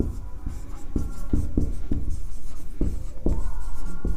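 Repeated scratchy strokes of writing on a board during a mathematics lecture, coming in short irregular bursts over a steady room hum, with no talking.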